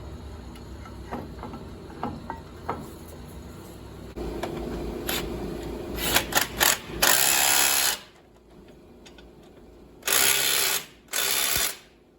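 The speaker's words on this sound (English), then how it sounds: "This little rigid stubby comes in real handy for tight spots." A Ridgid stubby ratchet wrench tightens large anti-seize-coated bracket bolts during a 2008 Dodge Ram knuckle replacement, giving repeated close ratcheting clicks and bursts of mechanical rattling over a quiet shop background.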